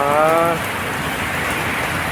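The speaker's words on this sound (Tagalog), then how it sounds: "lakas ng ulan" Heavy rain hisses steadily, a dense and unbroken patter. A voice briefly trails off at the very start.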